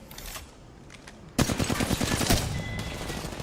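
Flatline assault rifle from the video game Apex Legends firing a sustained, rapid automatic burst. It is loud and close, starts abruptly partway in and continues steadily to the end, over quieter game sounds before it begins, with no talking.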